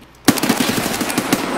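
A rapid burst of automatic gunfire in Escape from Tarkov, about eight to ten sharp shots fired in quick succession right after a quiet moment, loud and close with no talk.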